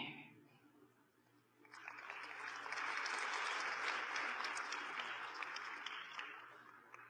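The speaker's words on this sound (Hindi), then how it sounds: "आपने अपने लिए ताली बजाई" Audience applause at a spiritual talk swells from near silence into sustained, steady clapping that fills the room for several seconds before easing slightly, distant and soft in level.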